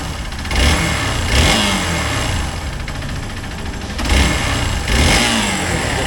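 A motorcycle engine runs steadily and fairly loud, with two rising swells of throttle partway through; no one speaks.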